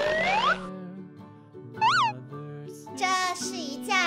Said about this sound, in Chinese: 这是一只小猫咪，放到黄色的窝里。